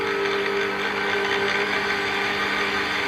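An electric mixer whirs at low speed through apple and cinnamon muffin batter, giving a steady, close motor hum with no break.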